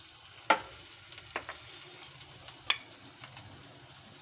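Moong dal frying in a little oil, a soft steady sizzle broken by a few sharp pops and stirring clicks, heard close up with no voices.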